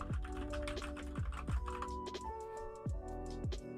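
Steady typing on a Keychron K4 mechanical keyboard connected over Bluetooth: close, crisp clacking keystrokes in quick, even succession with a few louder thuds, heard alone.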